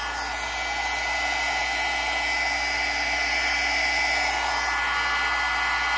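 Hair dryer blowing steadily and close over junk journal pages, a continuous loud whoosh with a high whine that holds level for the whole span, no talking.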